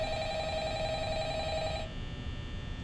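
Electronic telephone ringing in the Five Nights at Freddy's horror video game, a steady warbling ring held for nearly two seconds before cutting off, leaving a low game-room hum underneath.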